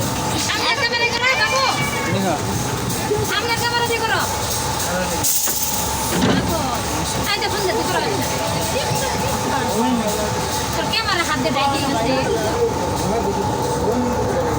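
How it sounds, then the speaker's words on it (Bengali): A train passes close by, its steady broadband rumble and rattle running throughout, with people talking and crowd chatter over it. "এই যে ট্রেন দেখেছো তোমরা, ট্রেন দেখেছো তোমরা।"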